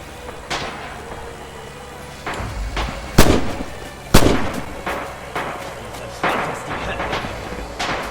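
Gunfire and bullet impacts in the WWII shooter game Red Orchestra 2, with sharp cracks and thuds arriving at irregular intervals, some loud and close and others more distant, over a steady background rumble.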